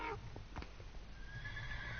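A horse neighs in Minecraft, a short whinny near the start followed by a few soft clip-clop steps, with a faint steady tone running underneath.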